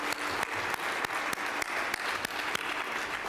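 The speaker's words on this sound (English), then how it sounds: "Let's give her a big round of applause." Audience applause at a real estate challenge competition night, steady dense clapping throughout with several sharper, louder claps standing out, no talking.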